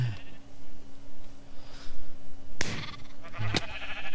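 Sheep in Minecraft bleat a few times over a faint steady hum, with one sharp, loud bleat standing out near the end.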